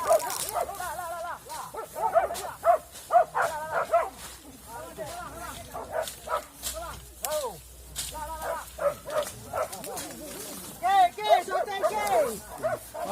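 Dogs barking and yipping during a village boar-hunting event, repeated excited barks and whimpers at close to middle distance, mixed with people shouting and talking.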